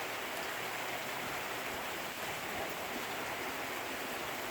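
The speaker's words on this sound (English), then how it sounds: "Look at it just pouring down." Heavy monsoon rain pours down over flooded land in Paulden, Arizona, a steady dense hiss of downpour heard at a distance, quiet and unbroken, with no voices.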